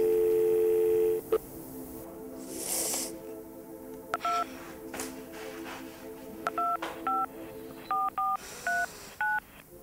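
Telephone keypad tones dialing a number during a tense domestic drama scene: a steady tone cuts off, then a quick series of short, clean touch-tone beeps follows in irregular bursts, fairly quiet and with no one speaking.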